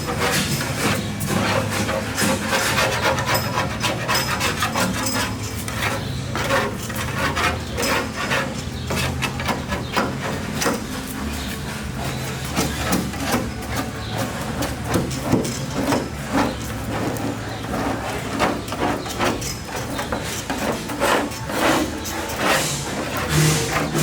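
A scraper drags steadily over chemically softened old paint during stripping, making a dense, continuous, close scratching and rasping with irregular strokes and no speech.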